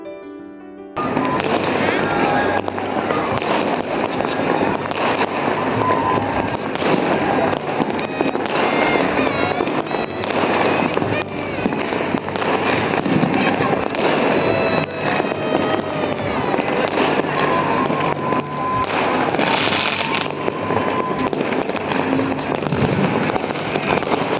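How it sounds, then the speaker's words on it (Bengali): Fireworks and firecrackers burst almost nonstop during Uttarayan (Makar Sankranti) celebrations in Ahmedabad, a dense, loud barrage of cracks and booms with whistling rockets rising through it and faint voices in the background. "এতক্ষণ সবার বাজি ফাটানোগুলো দেখছিলাম"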